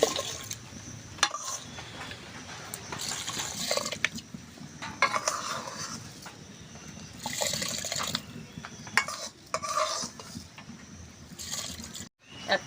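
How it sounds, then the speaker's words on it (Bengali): Rice and lentils tipped into a pot of hot water on a village clay stove for masoor dal khichuri, then stirred, giving soft splashing, watery pouring and scraping sounds at close range. "এবার আমি চাল আর ডালটা দিয়ে দেবো হাঁড়ির ভেতর।"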